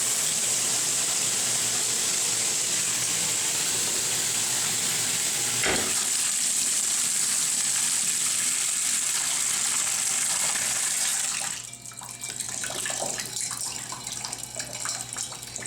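Shower spray hissing loudly and steadily, then the water flow changes and softens toward the end.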